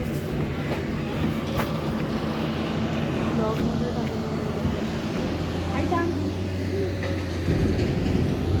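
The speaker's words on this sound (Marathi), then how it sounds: "स्टेशन हे नागपूर स्टेशन आहे" Nagpur railway station with construction work under way, a busy rumbling din of trains and machinery, with a long low tonal hum near the end and voices faintly mixed in.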